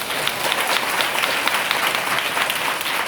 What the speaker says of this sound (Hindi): जोरदार ताली बजाके।